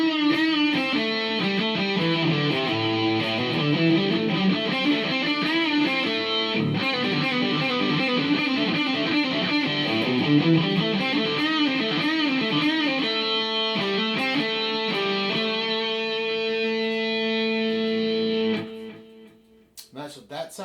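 Electric guitar played through a Boss GT-1000 multi-effects unit with delay and reverb, a steady stream of sustained chords and picked notes with repeating echoes, loud and close, trailing off into a brief fading tail.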